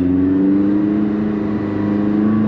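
A McLaren 600LT engine holds a steady loud drone with a slight waver in pitch around a gear change, heard from inside the car with no talking.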